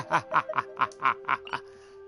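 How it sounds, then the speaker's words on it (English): Birds in Mondstadt in the video game Genshin Impact give a quick run of about seven short quacking, squawking calls in a bouncy rhythm, close and clear over a steady electronic tone. "I'm gonna go destroy Timmy's birds right now."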